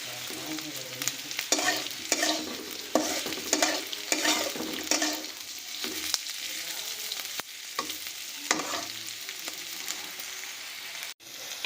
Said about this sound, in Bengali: পেঁয়াজ, রসুন, আদা, লঙ্কা সব খুব ভালোভাবে ভাজা হয়ে গেছে।